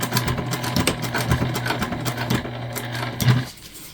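A sewing machine top stitches a cross body bag with a steady, loud mechanical whir and a rhythmic needle chatter. It runs continuously and stops near the end.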